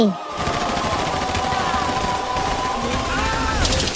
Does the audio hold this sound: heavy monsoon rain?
no